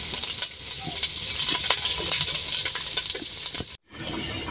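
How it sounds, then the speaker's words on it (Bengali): Beef biryani meat with bone and fat braised in a pot and stirred, a steady close hiss of frying with scattered scraping clicks that cuts out briefly near the end and then resumes, with no talking. "এই যে এখানে হচ্ছে বিরিয়ানির মাংসটা কষানো হচ্ছে, রান্না করতেছি। একটু নেড়ে চেড়ে দিচ্ছি আবারও।"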